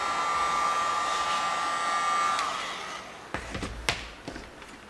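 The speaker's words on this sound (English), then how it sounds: "use your hot air gun, warm the material a little bit" A hot air gun blows steadily with a whining motor tone while warming teak welded panel material, then switches off, followed by a few sharp knocks and handling clatters nearby.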